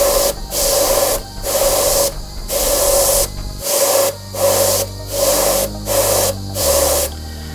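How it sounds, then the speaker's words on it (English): Airbrush on a very low setting with the needle almost closed, spraying paint onto a Haunebu II model kit during preshading: a steady airy hiss broken into about nine short, regular bursts as passes are made, close and fairly loud, with no talk. "you put your airbrush on a very low setting, turn almost the needle completely shut, and then you're just making passes over it"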